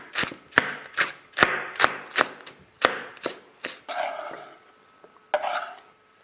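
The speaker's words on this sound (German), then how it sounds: "werde ich den Zwiebellauch in feine Ringe dann schneiden" A knife chops spring onions into fine rings on a board, about a dozen crisp close taps in a steady rhythm, then a pause and a few scraping strokes.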